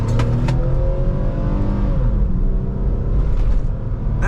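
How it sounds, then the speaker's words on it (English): A 2000 Lexus RX 300 V6 accelerating at full power, its engine holding a loud, steady, rising drone heard from inside the car, with faint ticks and rattles over the top and no talking. "That V6 still sounds decent."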